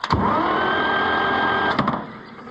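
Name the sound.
starter cranking Oliver 1355 tractor engine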